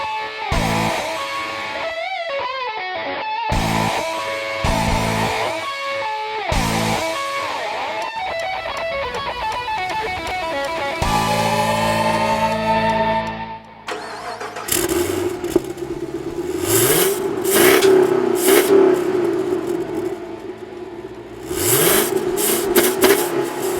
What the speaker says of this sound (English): You gotta love that sound of the American V8 motor.